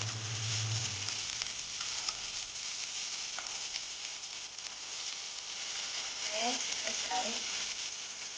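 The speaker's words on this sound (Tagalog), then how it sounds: "Put oil, olive oil. Saute the onion ring." Onion rings sautéing in olive oil sizzle steadily and up close, a constant hissing fry throughout, with faint stirring clinks and no speech.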